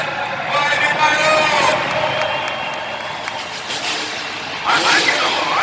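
A loud outdoor crowd at a motocross show beneath the Pirellone in Milan claps and cheers steadily, with a swell of cheering near the end and an announcer's voice over it.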